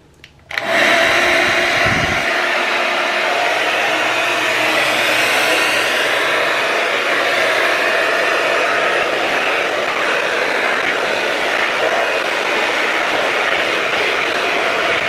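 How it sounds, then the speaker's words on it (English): A hair blow dryer switches on and runs loud and steady, a constant whirring roar with a high whine held close for the whole stretch, no talking over it. "This blow dryer is getting kind of hot"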